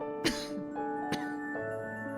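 A woman character in a video game coughs in two short, sharp bursts over quiet, sustained background music, the coughs fairly close and loud against the soft score.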